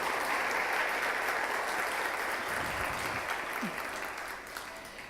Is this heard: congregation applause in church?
yes